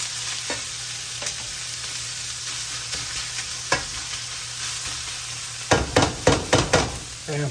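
Mushrooms fry in olive oil with a low steady sizzle, broken by scattered scraping stirs and then a quick run of five or six louder clatters near the end.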